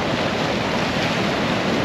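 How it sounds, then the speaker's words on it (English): Ocean waves breaking on a beach, a steady broadband wash of surf with wind rumble, continuous and fairly loud with no distinct single crashes. "Look at the waves breaking."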